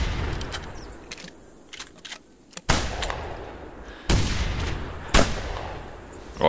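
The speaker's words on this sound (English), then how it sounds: "my shooting is really off" Gunshots in a multiplayer goose hunting video game: a few sharp, booming shots spaced a second or so apart, with faint crackling between them.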